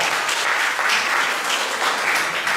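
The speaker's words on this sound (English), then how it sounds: "Let's give a big round of applause to Roger and Westpac" Sustained applause from an audience at a community Christmas jingles event, steady dense clapping filling the room without pause and no voices above it.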